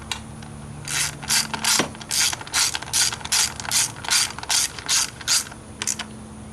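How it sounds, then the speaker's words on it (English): A ratchet tightens the 10mm coil pack bolts on a Pontiac G8 V6, making a close, rapid series of clicking bursts in an even back-and-forth rhythm, with one sharp knock early on. "Now I'm reinstalling the 10mm bolts to hold down coil packs. Then I'll tighten them all down."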